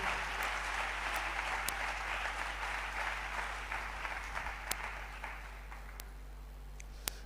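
A church congregation applauding during a service, sustained clapping at moderate distance with a few sharper claps standing out.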